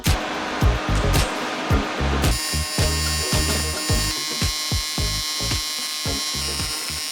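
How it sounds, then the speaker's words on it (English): Welding on a custom radiator for a Golf 2 rally car: a quick series of short, harsh buzzing bursts up close, falling into an uneven stitching rhythm after a longer opening burst, with no voices. "So let's weld the radiator and then go on to the next points."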